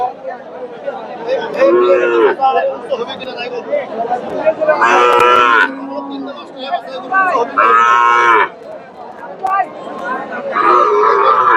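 A native-breed cow at a busy cattle market lets out several loud, drawn-out moos in irregular bursts, with crowd chatter and voices of people talking filling the gaps between calls.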